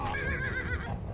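A horse whinnies in the Animal Revolt Battle Simulator video game, a single loud, wavering neigh over a busy, rumbling game soundscape.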